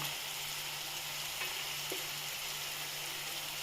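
Coriander powder, chili powder and garam masala fry in a pan with mushroom gravy, a steady close sizzle with a faint low hum and a couple of soft clicks from stirring.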